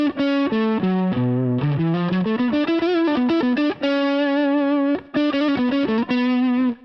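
Distorted electric guitar plays a melodic lick, with sustained, bending notes and short phrases, loud and alone with no talking.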